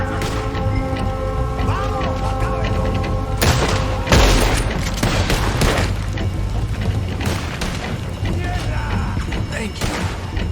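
Gunfire in Red Dead Redemption 2 during a shootout, with booming shots and thuds scattered through continuous battle noise and a musical score, a character's voice speaking over it.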